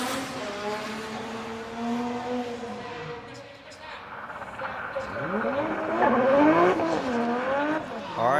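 A drift car tears through a qualifying run at Okayama International Circuit, running hot along the wall. The engine revs rise and fall over several seconds, growing louder and closer toward the end, with a commentator talking over it.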